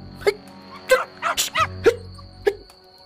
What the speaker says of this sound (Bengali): কুকুরগুলো আরো ঘেউ ঘেউ করে উঠল।